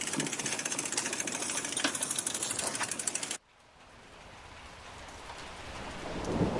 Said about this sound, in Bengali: এরই মাঝখানে বৃষ্টি নেমেছে সকাল থেকে।